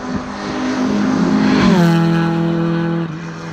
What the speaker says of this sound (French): au volant Hamza cette fois pour nous montrer de quoi est capable la 205 GTI